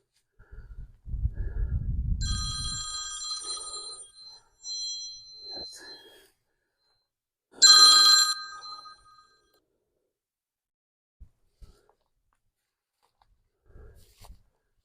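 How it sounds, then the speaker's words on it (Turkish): A phone rings on a rural hilltop plot in Balıkesir, Turkey, with two short bursts of electronic ringtone tones separated by a pause, loud and close, and a low rumble of wind or handling noise before them. "Telefon sesi için özür dilerim."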